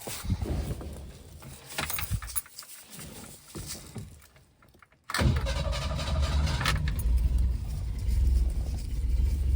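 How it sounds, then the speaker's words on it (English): A car engine cranks and catches, then settles into a steady running rumble after a brief pause. "Watch how easy this thing starts up."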